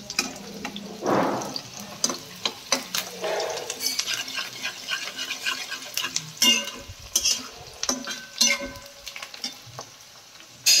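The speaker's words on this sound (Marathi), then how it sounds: "कांदा चांगला भाजायचा कटकूट लाल होईपर्यंत" Onions frying in a pan until reddish brown, with stirring and scraping, sizzling steadily under clinks and bursts of utensil noise; no talking.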